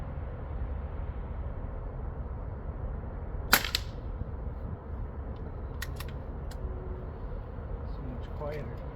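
Crosman 3622 PCP air rifle firing a single shot outdoors, one short sharp crack standing above a steady background rumble, with fainter clicks afterward.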